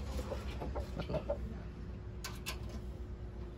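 A few soft, scattered clucks from a large rooster, fairly faint against a steady low background hum, with a couple of brief sharper sounds near the end.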